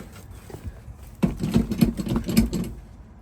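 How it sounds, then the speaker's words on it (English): Electric fuel pump priming on an old abandoned GMC big block Squarebody truck, a faint whir followed by about two seconds of louder, fluttering buzz close by. "Fuel pump."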